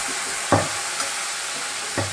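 Mustard seeds and a pinch of asafoetida sizzle in hot oil for a dry drumstick curry, a steady hiss broken by a few sharp pops of bursting seeds.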